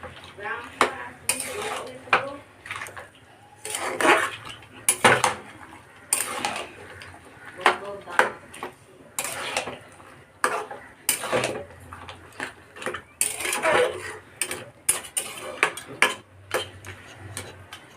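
A spoon scrapes and clatters in a pan while a vegetable curry with fried lentil dumplings is stirred, a close series of uneven metallic knocks and scrapes with a faint background hum.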